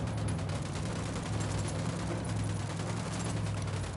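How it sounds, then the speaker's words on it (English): Gunfire in the video game Ghost Recon Wildlands, a steady dense barrage running the full length with a constant low rumble beneath, loud and continuous with no clear gaps between shots. "Opening fire."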